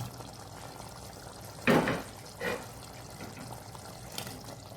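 Small sardines marinated in turmeric drop into a pot of boiling green masala curry with a brief wet splash and slosh, followed by a second softer plop and then a quiet background simmer.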